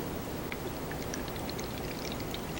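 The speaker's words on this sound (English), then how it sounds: "Let's add the water." Water pours steadily into a container of soil, a continuous splashing, gurgling stream heard close and alone.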